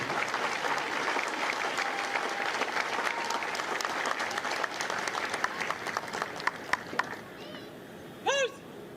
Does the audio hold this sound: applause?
yes